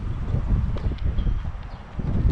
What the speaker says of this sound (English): I can tell it's windy, but it feels good.